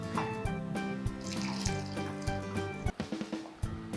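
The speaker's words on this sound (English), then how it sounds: "So here we're going to just pour this into this measuring cup." Passion fruit panna cotta mixture is poured from a spouted container into a measuring cup, giving a steady, close liquid trickle that splashes lightly and ends in a few small drips.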